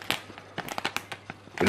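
A phalaenopsis orchid being unwrapped from its plastic packaging bag: close, crisp crinkles and crackles of thin plastic in quick irregular bursts, with no voices.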